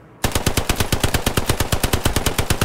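Rapid automatic gunfire in the World War II shooter Hell Let Loose, a loud, close, evenly spaced burst of about twenty shots fired without pause after a quiet start.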